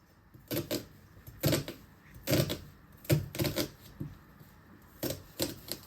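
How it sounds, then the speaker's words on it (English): A knife slicing through a peeled onion on a cutting board while burgers are prepared, giving sharp, crisp chopping knocks in small quick clusters of two or three, close and fairly loud, with quiet pauses between bursts. "So once you have peeled your onion, you want to slice it all the way through."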